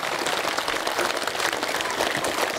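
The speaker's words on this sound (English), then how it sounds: "A big round of applause for yourself." An audience at a Delhi Public School performance of Alice in Wonderland gives sustained, dense applause, loud and even throughout with many hands clapping at once.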